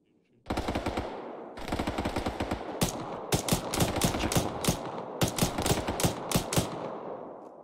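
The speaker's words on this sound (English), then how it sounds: "Alright, we're getting shot." Dense automatic and single-shot gunfire crackles nonstop in an Arma 3 firefight, loud and close, in rapid bursts with short gaps, starting abruptly after a brief quiet moment.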